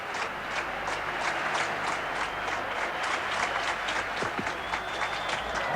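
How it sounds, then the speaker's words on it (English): A stadium crowd at the 1987 World Athletics Championships in Rome claps steadily for a long jumper, dense sustained applause with a quick rhythmic edge, spread wide across the venue and filling the whole stretch. "Crowd clapping, urging the man."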